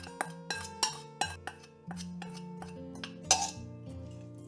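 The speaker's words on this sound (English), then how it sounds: "Give this potato mixture a good stir until everything is well combined." A spoon stirring potato pancake mixture clinks repeatedly against a bowl, a close series of sharp metallic taps with ringing tails, louder hits spaced irregularly through a quiet kitchen.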